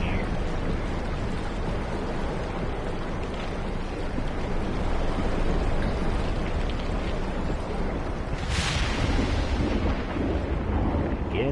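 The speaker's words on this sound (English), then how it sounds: "It's like an undersea storm." A steady, heavy rumble of an undersea storm in SOMA, dense low roaring throughout with a brief hissing burst near the end, no talking.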